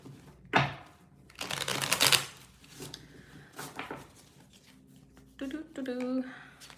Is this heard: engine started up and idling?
no